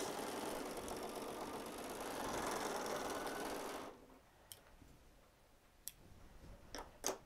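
A sewing machine runs steadily through thick layers of fabric in the middle of a quilting project, a loud continuous whir for about four seconds, followed by a few sharp clicks and handling taps.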